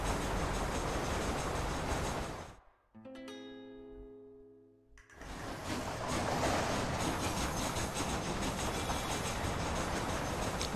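Train riding on rails in the video game Red Dead Redemption: a loud, steady rolling roar that drops out briefly for a couple of seconds, then returns just as full, with no talking.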